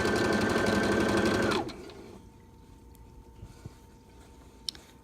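A sewing machine stitching the hem of a rag rug runs loud and steady up close, then winds down and stops, leaving quiet room noise with a few small clicks.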